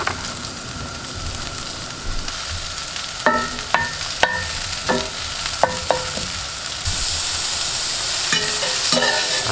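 Chestnut mushrooms fry in a little oil in a pan, giving a loud, steady sizzle broken by sharp scrapes and knocks of a utensil stirring them around, with no voices.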